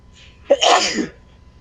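One sharp human sneeze bursts out close and loud during a tabletop role-playing game session, a quick inhale followed by an explosive exhale, with no talking over it.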